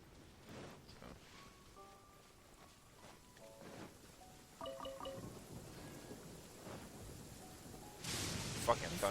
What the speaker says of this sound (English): Fucking thunder.